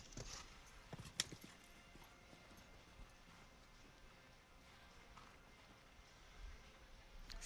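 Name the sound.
horse hooves cantering in show jumping arena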